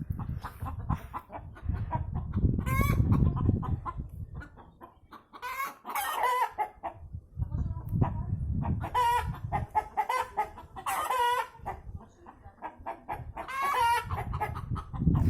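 Several chickens cluck and squawk agitatedly after a fight, over a long stretch, with loud bursts of calls overlapping a constant low rumble of background noise.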